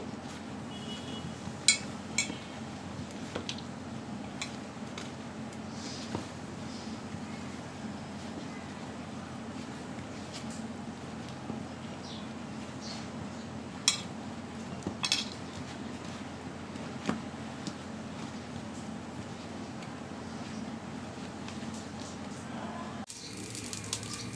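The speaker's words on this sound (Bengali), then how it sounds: "এবার ভালোভাবে একটু মিশিয়ে নিচ্ছি বেগুন টমেটোর মধ্যে যেন প্রত্যেকটার মধ্যে গায়ে লেগে যায়" Mashed eggplant and tomato are mixed by hand in a bowl for begun bharta, with sporadic light clinks of utensils over a low steady background hum and faint birdsong.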